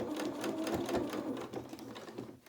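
A sewing machine stitches fabric in a steady, quiet run of rapid mechanical clatter that eases off toward the end.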